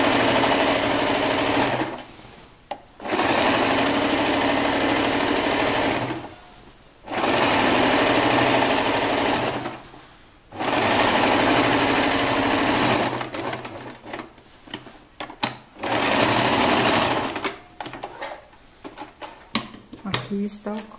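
A sewing machine stitching the top seam of a child's gathered skirt runs close and loud in several long bursts with short pauses between them. Brief speech and handling noises are heard in the gaps.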